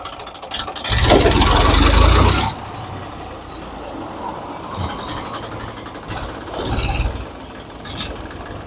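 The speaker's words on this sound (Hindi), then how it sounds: "अब मैं इसे स्टार्ट करके मैं ब्रेक लगा के भी आपको दिखाता हूँ" Massey Ferguson tractor running with its brake being applied, a loud mechanical grinding burst near the start, then lower engine rumble with a second, shorter clanking surge later.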